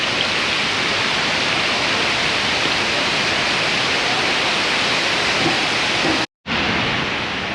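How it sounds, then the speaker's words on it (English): A small waterfall in a garden rushes with a constant, loud hiss of falling water, steady and close throughout, broken only by a momentary gap near the end and with no talking. "I really like this little garden area. It looks so pretty. The waterfall there."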